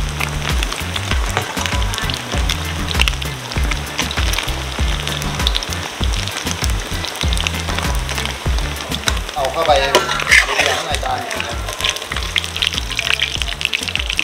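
A mixed shellfish omelette (Thai hoi tod) crackles and sizzles loudly in hot oil in a pan, a steady close frying hiss running throughout beneath music and occasional talk.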